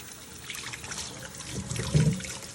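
A vegetable rinsed under running water, a soft close trickle and splash that swells briefly louder near the end as the stream hits it, with no one talking.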